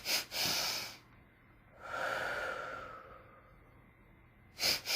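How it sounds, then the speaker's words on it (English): Slow, deep breaths during a guided meditation: a sharp inhale, a long, soft, airy exhale, then another quick intake, close and quiet in an otherwise still room. "let's just do 3 rounds of the 3 breaths"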